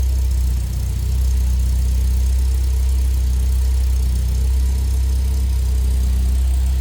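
A 1974 Volvo 1800 ES sport wagon engine idles steadily from behind the car, a low constant rumble that holds an even level throughout with no talk.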